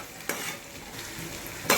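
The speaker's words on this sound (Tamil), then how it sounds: "வெங்காயம் ஓரளவுக்கு நல்லா கண்ணாடி பதம் வர வரைக்கும் வதக்கிக்கலாங்க." Steady sizzling of onions sautéing in a clay pot for mutton curry, with a couple of sharp scrapes as they are stirred, close by and moderately loud.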